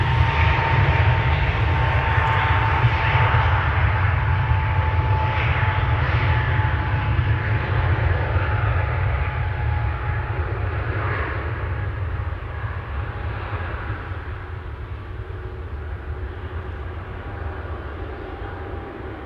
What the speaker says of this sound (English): We have an A321neo taking off from a runway 18 left.